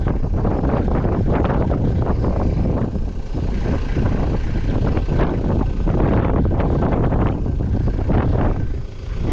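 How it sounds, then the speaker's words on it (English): Strong gusting wind roars continuously outdoors at a barn and yard beside a red tin shed, buffeting the microphone loudly and steadily throughout with no voices. "the wind's blowing a million miles an hour"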